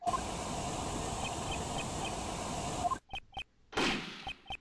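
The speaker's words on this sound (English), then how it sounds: "Sound like a gunshot." A long steady hiss cuts off abruptly, then a few sharp clicks and one loud burst like a single gunshot, followed by brief ticking sounds, in the video game Ace Attorney Investigations 2: Prosecutor's Path.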